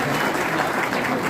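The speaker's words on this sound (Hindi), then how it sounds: "एक भरपूर ताली इमरान खान साहब के लिए।" A crowd claps steadily in a hall as a worker and trader union gathering applauds Imran Khan at the Marriott Hotel; dense, sustained applause fills the whole moment without pause.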